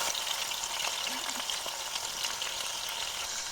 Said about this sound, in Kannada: ಎಣ್ಣೆ ಬಿಸಿ ಆಗಿದೆ. ಇನ್ನು ಇದರೊಳಗೆ ಚಿಕನ್ ಹಾಕ್ತೇನೆ.